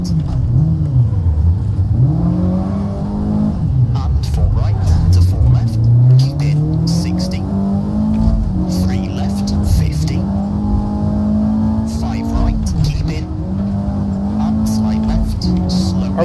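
Rally car engine in a WRC video game droning and revving up and down while the handbrake is yanked into a slide, loud and continuous, with a player talking over it.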